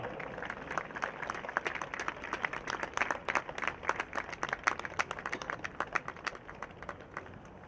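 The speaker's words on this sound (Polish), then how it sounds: "Wielkie brawa!" Crowd applause at a Warta Sieradz football match honouring a player's 100th game, a steady burst of many hands clapping from a stadium crowd, fairly distant and sustained throughout.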